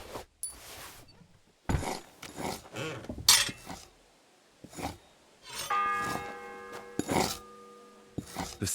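A church bell in Kingdom Come Deliverance 2 strikes once with a ringing, sustained tone that hangs for about a second amid scattered clicks and footstep-like clatter.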